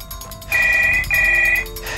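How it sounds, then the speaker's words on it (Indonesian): An electronic ringtone chimes from a tablet near the steering wheel inside a car in two long, bright tonal bursts, close and clear over faint background noise. "Di bagian depan dekat setir, yang mulai berdering."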